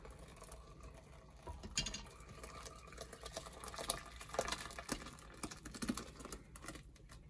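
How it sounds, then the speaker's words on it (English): Cheese curds and whey from goat cheese being poured through cheesecloth into a strainer, a soft continuous patter and trickle of liquid, close and quiet, with no speech. "Okay, so I'm just pouring it through the cheesecloth and the strainer."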